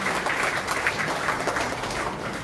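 A crowd at a Liberty Korea Party provincial chapter ceremony applauds steadily after an appointment is announced, a dense, even patter of many hands clapping at moderate distance with no voices over it.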